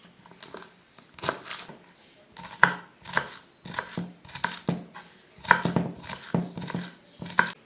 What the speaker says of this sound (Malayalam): ഒരു 3-4 തണ്ട് സ്പ്രിംഗ് ഓണിയൻ എടുത്തിട്ടുണ്ട്. അത് നമുക്ക് കട്ട് ചെയ്യാം.